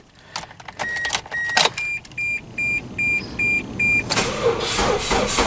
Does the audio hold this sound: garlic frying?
no